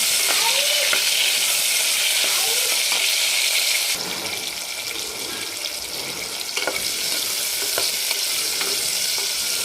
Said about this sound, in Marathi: दोन मिनिट आपल्याला याला फ्राय होऊ द्यायचे आहेत